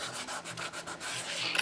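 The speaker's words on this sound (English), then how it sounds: "Give it a good burnish down, get all that glue" Glued paper pressed and burnished down by hand while assembling a scalloped square memory book, a soft rhythmic rubbing of about eight close strokes, quiet and alone.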